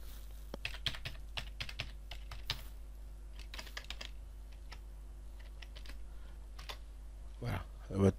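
A password is typed on a computer keyboard for a Freebox, giving quick, close clicks in uneven clusters with short pauses, over a low steady hum.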